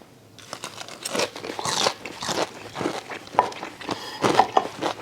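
Loud crunches from teeth biting into crispy fried tonkatsu pork cutlet, a series of sharp crackling bursts followed by close, repeated chewing with no talk.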